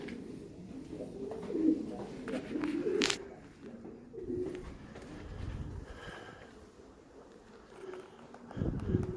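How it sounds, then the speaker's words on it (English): Pigeons cooing at Kenilworth Castle near Elizabeth's bedchamber, low soft coos repeating close by among faint room noise and shuffling. "pigeons"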